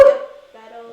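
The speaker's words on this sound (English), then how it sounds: "Sorry about the dog." A single dog bark, loud and close at first, then trailing off into a softer, whiny yip or whimper, with people nearby in a casual setting at a park.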